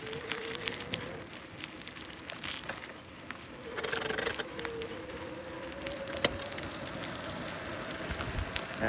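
A Totguard e-bike's electric motor runs on throttle alone, without pedaling: a thin, steady whine that wavers slightly under a bed of outdoor road and wind noise.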